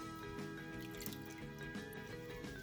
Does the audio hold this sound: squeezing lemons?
yes